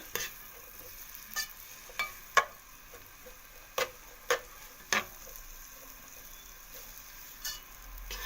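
Stuffed quail browning in a frying pan with onion, a soft continuous sizzle punctuated by sharp intermittent pops and crackles spaced a second or so apart, fairly close and without any talking.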